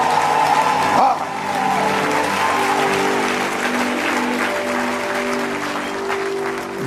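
Congregation at a church sermon applauds and cheers loudly in a steady, dense wash of clapping and voices, with a raised shout at the start and the crowd noise holding throughout.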